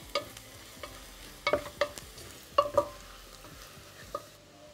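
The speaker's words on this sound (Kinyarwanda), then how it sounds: "Dushyiremo na curry powder, kabikaranga bya birungo byawe" Curry powder and spices frying in a pan with rice-dish seasoning, a faint sizzle under repeated scraping stirs and sharp clinks of a utensil against the pan, moderately quiet, no voices.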